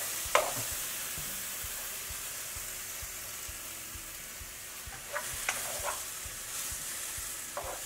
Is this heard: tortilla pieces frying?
yes